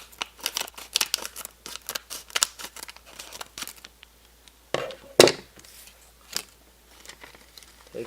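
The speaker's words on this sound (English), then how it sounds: "let me get my scissors" Scissors snip through Mega Bloks Marvel toy packaging, a fast run of sharp close cuts with crinkling plastic, then a few louder isolated snips and rustles near the end.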